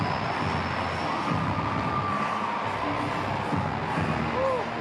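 Home crowd at an amateur boxing bout in Venezuela cheering after a 60kg decision for the local fighter, a loud, steady roar of voices with whoops rising throughout.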